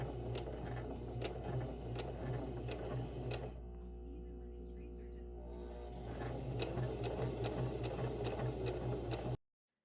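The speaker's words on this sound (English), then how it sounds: "I'm going to be using a ballpoint needle to sew this." A sewing machine runs steadily while stitching stretchy mesh fabric with a ballpoint needle on a zigzag stitch, a continuous close whirring hum that pauses briefly midway, then resumes at the same pace.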